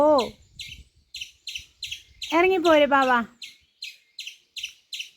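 A bird gives a regular series of short, sharp chirps, close and clear, repeating about twice a second, while someone speaks softly in between.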